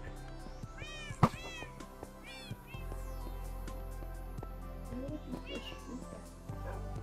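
A cat in Minecraft lets out a few short meows, one sharp and loud, over game background sounds.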